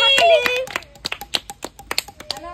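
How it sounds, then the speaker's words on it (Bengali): Children in a village clap their hands during a vegetable-matching game: a quick run of sharp, uneven claps close by, following a brief shout. "হাততালি হাততালি সবাই হাততালি দাও।"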